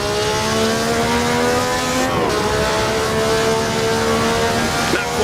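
A 1960s Formula One car on slick tyres in Assetto Corsa drones loudly under throttle as it heads toward a tunnel, its engine note rising and shifting with gear changes, and a voice talks over it.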